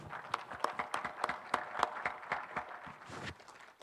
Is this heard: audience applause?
yes